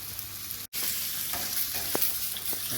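Racks of lamb sear in a hot pan with a loud, continuous close-up sizzle, briefly cut off for an instant early on, with no voices.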